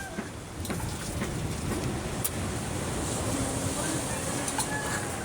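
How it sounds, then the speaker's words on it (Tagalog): Large sea waves rolling in at high tide on a rocky shore, a steady broadband wash and roar that swells after the first half second and continues evenly, with no talking. "May high tide ngayon. Malaki alon."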